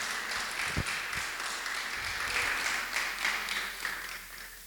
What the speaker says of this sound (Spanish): Manden un aplauso al alcalde, les caiga bien o no les caiga bien, pero manden un aplauso.